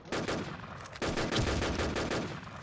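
Two bursts of rapid automatic gunfire in a video game, the first brief and the second longer and steady, close and loud.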